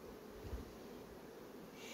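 Honeybees buzzing at a hive during an inspection, a faint, steady low drone held evenly for under two seconds, with no talking.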